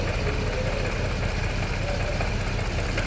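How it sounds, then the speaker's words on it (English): A 2015 Range Rover Sport engine idles with cylinders 3 and 5 misfiring after an engine replacement, a close, steady low rumble with an uneven, rough pulsing throughout. "cylinder 3 and cylinder 5 is crazily misfiring"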